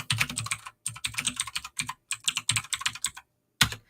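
Rapid bursts of typing on a computer keyboard entering text into a chat, close and crisp, in uneven runs of clicking with short pauses, no voices.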